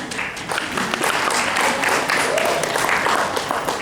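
Applause from an audience at a career fair launch event, a steady broadband wash of clapping held at even loudness throughout with a faint murmur of voices beneath.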